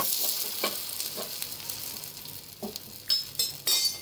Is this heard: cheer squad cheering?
no